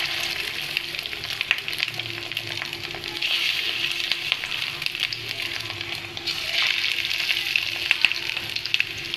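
Fish roe pakoras fry in hot white oil in a kadai, a loud, continuous bubbling sizzle that swells as more pieces go in, with no voices.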